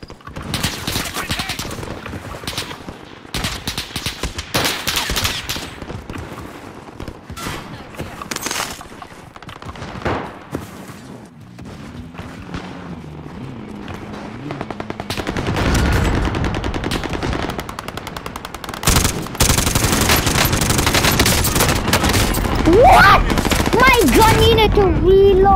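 Sustained automatic gunfire in the video game Warzone, long dense volleys of rapid shots, loud and close, with brief gaps and a player talking at times.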